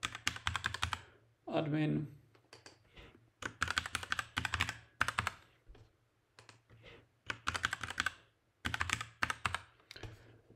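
Quick clattering keystrokes on a computer keyboard come in bursts between pauses while someone talks quietly at times.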